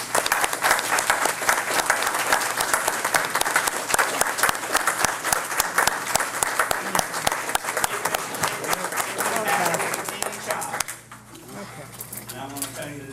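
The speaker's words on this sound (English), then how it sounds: "join me in giving Jesse and his mother a big applause" Audience at a county board of education meeting applauds steadily for about eleven seconds with dense, crackling claps, then the clapping cuts off abruptly and quiet room noise with a few faint sounds remains.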